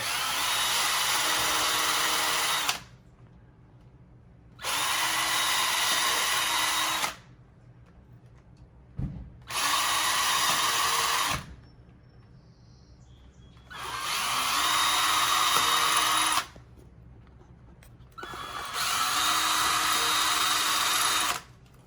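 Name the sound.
drilling guide holes into concrete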